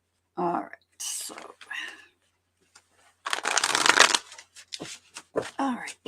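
Short bursts of soft talk, then a quick riffle of playing cards being shuffled, followed by a few lighter rustles and taps.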